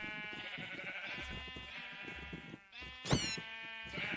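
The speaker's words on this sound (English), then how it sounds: "But yeah, I got a lot of sheep." Sheep in a survival-style video game farm base bleat repeatedly and up close, several overlapping wavering calls with one sharp louder bleat near the end, no talking.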